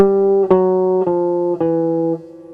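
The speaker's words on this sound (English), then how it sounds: "It's in contrary motion, meaning one voice is going up and one voice goes down at the same time." A blues guitar plays an ending in contrary motion, one voice climbing while the other falls, as four clean, evenly spaced two-note strikes that each ring out before the last fades.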